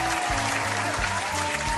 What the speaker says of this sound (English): Please give a huge round of applause to the one, the only, Phoenix Ash from the NHS